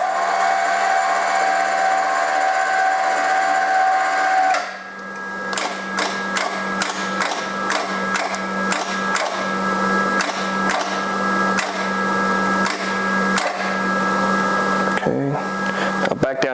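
A spring testing machine runs its travel up and back down with a steady motor whine that stops abruptly, followed by a series of sharp, evenly spaced clicks and ticks with a faint hum underneath.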